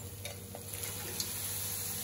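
Mutton pieces going into a pan of frying masala sizzle steadily, with light stirring scrapes on top of a constant hiss, close and moderately loud throughout.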